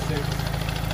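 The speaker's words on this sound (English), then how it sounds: "I can show you the engine." Engine of a £150 car idling with the bonnet open, a steady low rumble with even rhythmic pulsing throughout the short moment.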